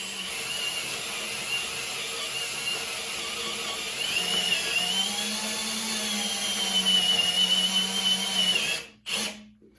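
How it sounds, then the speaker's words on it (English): A power drill whines steadily as a spade bit bores through wood, pitch shifting under load, then stops abruptly near the end with a brief restart. "we're going to drill this hole."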